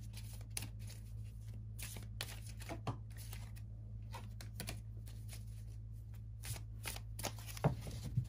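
Tarot cards being shuffled by hand in repeated riffling bursts, close and fairly quiet, over a steady low hum with no talking.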